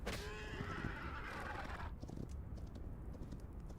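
A horse in the video game Hytale lets out a loud whinny, followed by a run of clip-clopping hooves over steady background noise.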